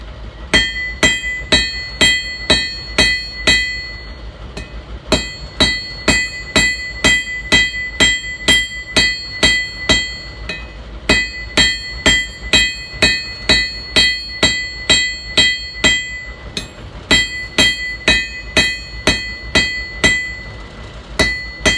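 A hammer strikes hot metal from a piece of fence post on an anvil while it is drawn out to a rough square, a steady run of loud, ringing blows in quick rhythmic groups with brief gaps.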